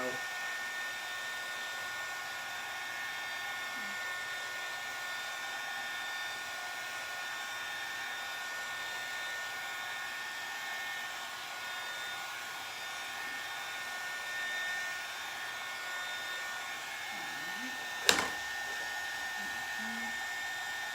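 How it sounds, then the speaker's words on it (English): A small hair dryer blows with a steady, even whir throughout while drying a transfer, broken once near the end by a brief sharp knock. "Making sure this is nice and dry with our little air dryer here."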